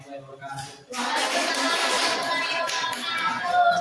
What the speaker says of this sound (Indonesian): Tepuk tangan dulu untuk Dias.